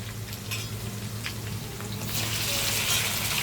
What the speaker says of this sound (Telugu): ఇది హై ఫ్లేమ్లోనే బాగా వేగాలి, ఒక 5 మినిట్స్.